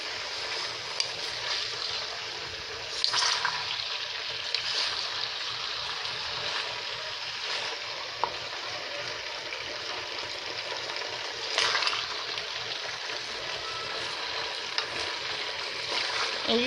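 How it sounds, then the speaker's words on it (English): Potatoes and onions fry in very hot grease in a pan, a steady broad sizzle running throughout with occasional louder scrapes and stirring bursts, close and continuous, no talking. "And you got to continuously stir them real good and get the oil all over the potatoes."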